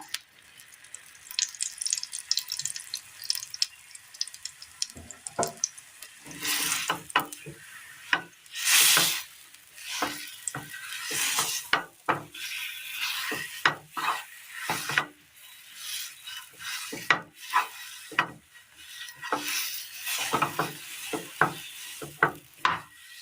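Spoon scraping and stirring a thickening mango and semolina mixture in a pan on a Kerala stove, a steady run of soft rasping strokes with faint sizzling, no voices.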